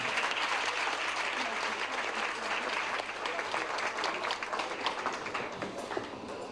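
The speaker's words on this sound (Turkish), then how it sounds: "Onları bir alkışlayalım efendim." Wedding ceremony guests applaud in a dense, continuous patter with scattered sharper claps standing out, moderately distant and fairly quiet overall.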